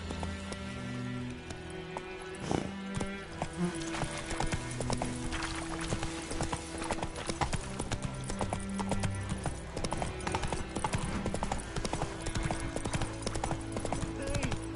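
Horse hooves clip-clop at a steady trot in The Witcher 3 on PS5, close and continuous, set against game music and ambience.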